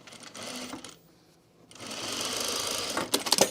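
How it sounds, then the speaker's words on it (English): A domestic sewing machine runs in a steady whirring burst as it stitches fabric, stops briefly for about a second, then resumes the rapid stitching, ending with a few small clicks. "I'm going to continue to sew that"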